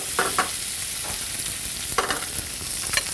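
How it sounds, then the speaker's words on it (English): Copper River salmon being basted with lemon butter and herbs in a hot pan. A continuous close sizzle rises into several short spattering bursts as the butter is spooned over the fish. "This is called basting. So I want to get some of that butter right up on that fish."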